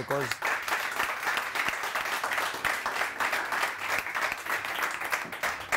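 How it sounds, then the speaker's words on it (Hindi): Steady audience applause on a morning television show, dense continuous clapping throughout, moderately loud with no pauses. "ये अना और सना के लिए वाकई बहुत सारी तालियां होनी चाहिए"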